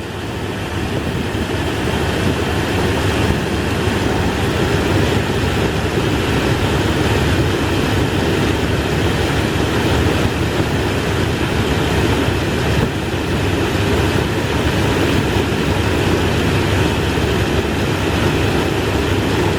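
1996 Chevy Tahoe 5.7 liter V8 idling during a cooling system flush, a loud steady rumbling drone held evenly throughout with no talking.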